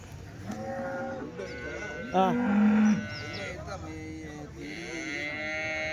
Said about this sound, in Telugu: జెర్సీ కదనా ఇది జెర్సీ ఆవు